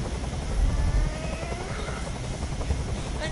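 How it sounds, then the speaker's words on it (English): A helicopter in the video game Detroit: Become Human hovers close by, its steady rotor chop and engine drone loud and continuous throughout, with no talk over it. "Tell that helicopter to get out of here!"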